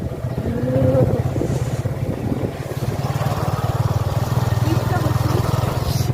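A Kawasaki Ninja motorcycle rides along a road in cold weather, its engine a steady, close drone throughout, with wind rush and occasional voices in the background.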